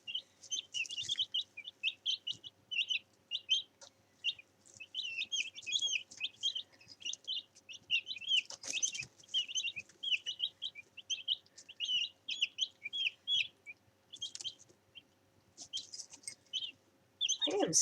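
Young chickens chirp and cluck in a dense, steady stream while jostling over food, with a few louder squawks rising above the near, continuous peeping.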